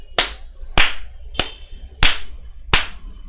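Five sharp hand claps ring out in a slow, evenly spaced rhythm, each one crisp and close with a short decay and quiet gaps between.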